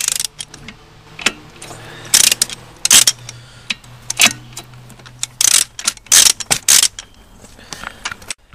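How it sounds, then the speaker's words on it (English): Snap-on torque wrench tightening the nut on a dirt bike sprocket, sharp ratcheting clicks in clustered bursts with pauses, close and loud over a faint low hum. "Next, torque up the nut on the sprocket with a nice snap-on torque wrench."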